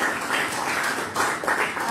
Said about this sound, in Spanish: gracias por esa aplauso